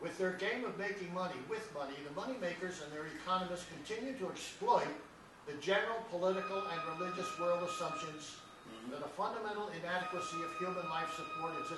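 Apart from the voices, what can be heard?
None of the usual background noises is heard.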